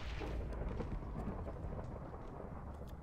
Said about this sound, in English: What is this lightning?